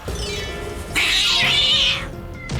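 A house cat that dislikes other cats gives one loud, drawn-out meow close to the listener, followed by a brief, sharper sound at the end.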